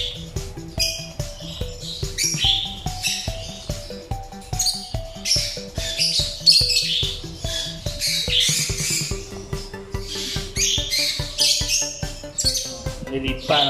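Young hand-fed parrots in an aviary squawk and chatter almost constantly, harsh overlapping calls close to the listener, while a person talks underneath.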